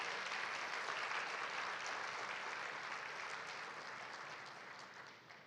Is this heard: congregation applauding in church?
yes